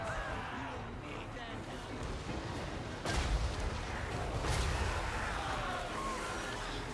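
Mortar artillery fires during a Total War: Warhammer 3 battle. Dull, distant thumps sit inside a dense, noisy battle din while a voice talks over it.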